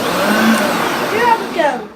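A Hoover Concept One upright vacuum cleaner with automatic power drive, a US import model, runs with a steady broadband motor whir that wavers slightly in pitch, close and fairly loud, then cuts off near the end.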